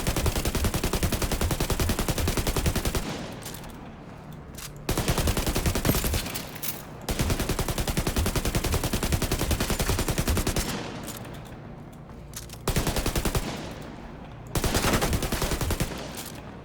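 Rifle gunfire from The Division 2, with a Focus/Dilemma build at a control point, rattling in dense sustained bursts separated by short pauses, loud and close with no talking.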